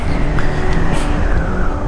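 A car passing on a mountain road toward Baguio, heard from a Yamaha Nmax 155 V2 scooter, with a steady loud rush of engine and wind noise throughout and the vehicle's sound blending into it.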